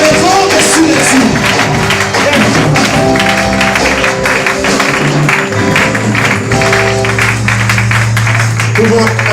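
A church congregation applauding and cheering, with dense clapping and crowd noise mixed with loud voices and tonal sound, close and continuous throughout.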